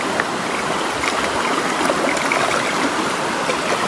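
River water flows and burbles steadily, close and continuous, with no talking.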